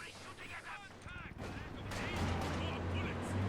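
Gunfire in a World War II strategy game match, an infantry squad shooting through a window, heard as bursts of rapid shots under ongoing commentary, with a rising rumble of battle noise.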